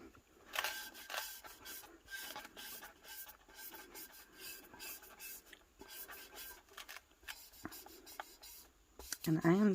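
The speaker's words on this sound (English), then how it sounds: "I am just using a felt squeegee for that." A felt squeegee rubs and scrapes over matte white printable vinyl being smoothed onto a tumbler, making a close, steady run of soft scratchy strokes with faint background noise.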